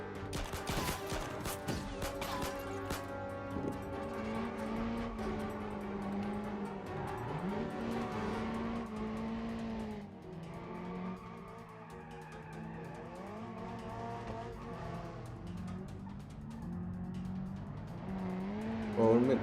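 A car drifts in BeamNG.drive, giving long sliding tire squeals that rise and bend in pitch over a continuous engine drone, with sharp impact bursts early on.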